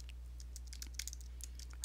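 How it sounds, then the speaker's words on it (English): Fast, uneven keystrokes tap on a computer keyboard while text is entered in Adobe Photoshop CC 2018, crisp clicks sitting over a steady low hum, with no voices. "and I will start typing"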